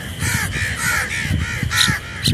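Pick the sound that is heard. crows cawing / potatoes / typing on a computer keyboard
crows cawing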